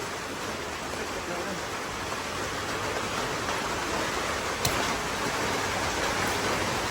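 Steady hiss of light drizzle falling outside a new house hit by a typhoon, even and continuous with no breaks, moderately loud, with one faint click partway through.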